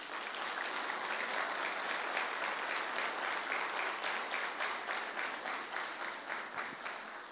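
A crowd claps steadily in warm, sustained applause that holds for several seconds before slowly tapering off.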